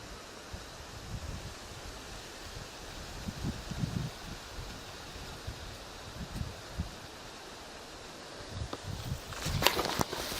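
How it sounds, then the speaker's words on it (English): Night wind blows through trees in rural Lubelskie, Poland, leaves rustling in a steady soft wash with gentle gusts that swell and fade, plus a brief sharper crackle near the end. "It'll be always a special thing at night to hear the wind blowing through these trees and making the leaves"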